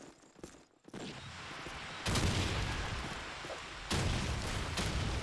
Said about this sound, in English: A big nade exchange